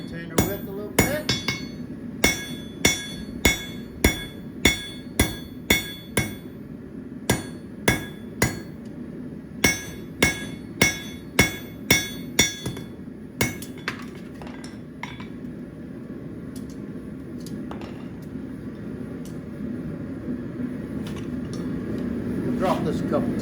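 Blacksmith's hand hammer repeatedly striking hot steel on an anvil while forging box jaw tongs, a fast run of sharp ringing blows that slows into sparser strikes, with quiet shop background and occasional talk.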